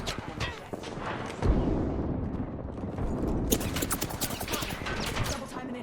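In a video game, a frag grenade explodes with a heavy boom that lands amid ongoing gunfire, mid-distance and fairly loud, while a player talks over the action.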